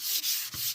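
Wood being hand-sanded with 120 grit sandpaper in quick back-and-forth strokes, a close, bright hissing rub with two short breaks between passes and no talking.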